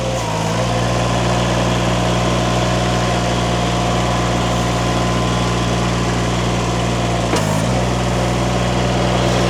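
Derette V1000 Chinese mini skid steer engine running loud and steady at high revs while lifting, with a brief dip and recovery near the end, no talking.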